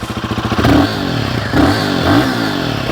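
A Royal Enfield Guerrilla 450 roadster is revved through its exhaust, the idle thump swelling into three loud, close blips that each rise and fall back.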